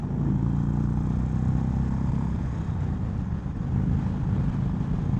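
Indian Springfield Dark Horse motorcycle engine holding steady in third gear around 3,000 RPM, a continuous low rumble with heavy wind buffeting over it, loud and close.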